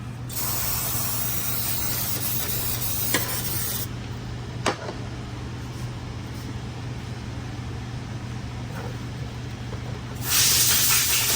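Cleaner sprayed onto a bearing from a 6L80 transmission during a rebuild on a 2013 Silverado, heard as a steady close hiss. It opens with a strong bright burst, continues as a softer hiss, and ends with another strong burst, with no talking.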